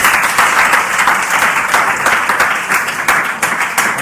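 An audience breaks into full, even applause at a live talk, with many hands clapping together close by and no speech over it for a few seconds.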